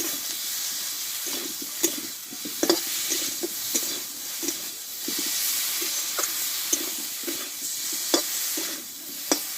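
Potatoes and cauliflower stir-fry with spices in a village kitchen pan, a steady hissing sizzle under repeated rhythmic scrapes and taps of a spatula, close and moderately loud.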